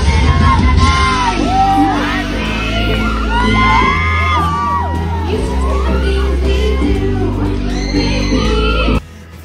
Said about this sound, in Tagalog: Paglabas pa lang niya ng stage, sigawan na ang mga tao sa Showtime.